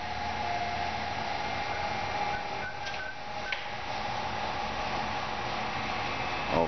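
Pneumatic clamping device on a tilt table held under air pressure, giving a steady, loud hiss of air that runs unbroken through the whole stretch, with a couple of faint clicks near the middle.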